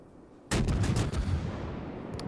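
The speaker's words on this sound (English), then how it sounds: "That way I can land as many shells as possible, and he actually eats a citadel there" The Japanese tier 8 cruiser Mogami firing a salvo in World of Warships, a sudden loud boom of its guns with quick follow-up blasts that roll off into a rumbling tail, close and alone.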